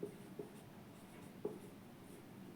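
Faint scratching of writing by hand, quiet and steady, broken by a few soft taps as the writing tool touches the surface; no one speaks.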